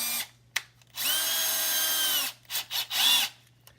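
A power drill bores a hole through a cabinet using a knob-and-handle template, with two sustained high whirring runs separated by short stop-start bursts and pauses, close and loud.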